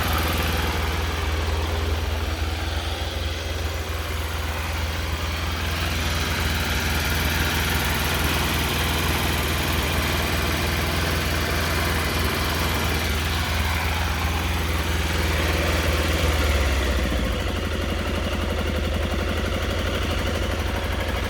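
A Triumph motorcycle engine idles steadily nearby without choke, nearly out of fuel, a continuous loud chugging rumble with little change throughout.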